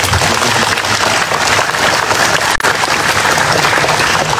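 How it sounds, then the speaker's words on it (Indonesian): An audience at an Indonesian talk about building the Garuda wing blades for the presidential palace at IKN gives loud, sustained applause, a dense continuous clapping with one brief dip near the middle. "Tepuk tangan lagi nih buat."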